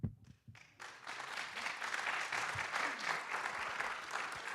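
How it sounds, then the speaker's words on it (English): Audience applause breaks out at a county commission debate, rising after a brief pause into a steady patter of clapping from a moderate-sized crowd in a hall. "And can we please hold our applause till the end of the round?"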